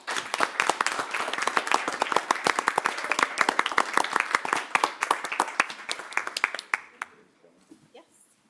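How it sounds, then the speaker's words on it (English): A room at a Tonganoxie city council meeting breaks into a round of applause, dense sharp clapping lasting about seven seconds before fading out, with voices murmuring underneath. "let's give you a round of applause."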